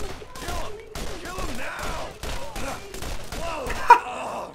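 Rapid bursts of gunfire from the Borderlands video game, playing as Mordecai, crackle in short repeated volleys with a sharp crack near the end, while a voice talks and groans over the shooting.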